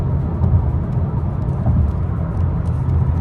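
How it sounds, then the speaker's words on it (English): A 2018-2022 Honda Accord Sport's engine revs under acceleration while the driver paddle-shifts, a loud, steady low-pitched drone and road rumble from inside the cabin with no talking. "So if I step more on that, you could actually hear the car."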